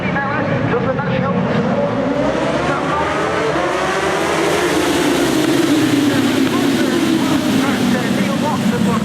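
Racing motorcycles start at the Oulton Park Wirral Hundred road races, their engines a loud, continuous, rising and overlapping roar as the pack accelerates away together, with a commentator talking over it.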